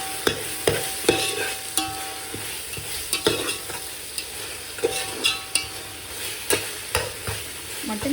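Masala sizzles in a little oil for mutton biryani, with a spoon scraping and stirring the pan in regular strokes; close and clear, with no voices.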